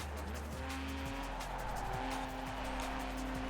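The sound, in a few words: race car taking a corner at full throttle in Forza Horizon 4 video game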